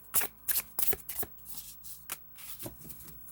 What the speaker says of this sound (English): Pull 2 cards for you out of this.